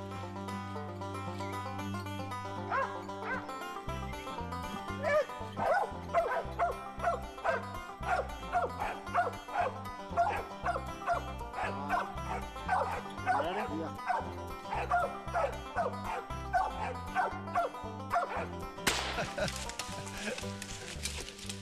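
Original-bred mountain cur hunting dogs bay repeatedly at a squirrel treed in the woods, with a steady rhythmic run of loud barks and people talking throughout.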